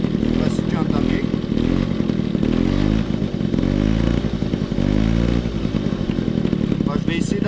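Motorcycle with a homemade racing exhaust idling close by, a loud, lumpy, uneven putter that holds steady throughout, with people talking over it.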